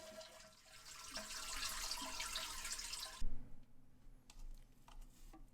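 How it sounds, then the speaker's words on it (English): Water rushes out of a toilet tank while the flush handle is held down, a steady gurgling wash for about three seconds that stops abruptly, followed by faint drips and clicks. "drain any remaining water from the tank by holding down the flush handle"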